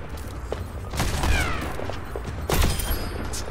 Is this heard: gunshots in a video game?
yes